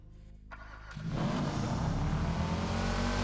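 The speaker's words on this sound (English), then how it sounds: "So let's hear what a Sultan 2 sounds like." A Sultan 2 car engine in GTA FiveM fires up and revs hard, jumping from a low idle to a loud, sustained roar after about a second.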